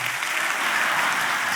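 A church congregation claps together in dense, sustained applause, loud and even throughout with no voices standing out.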